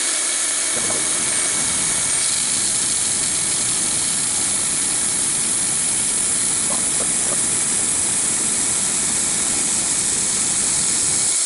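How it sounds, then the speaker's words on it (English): A milling machine running an end mill to square and clean up the ends of metal stock, a steady loud whirring hiss with a constant machine drone throughout, no speech. "now I'm going to use an end mill to clean up the two ends and cut it to size on the length"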